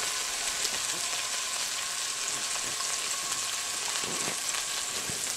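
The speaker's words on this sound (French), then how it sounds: "Faites réchauffer l'huile et l'ail dans la poêle." Garlic heating in oil in a frying pan over medium heat, giving a steady, even sizzle that holds throughout with faint crackles and occasional light stirring, moderately quiet and close.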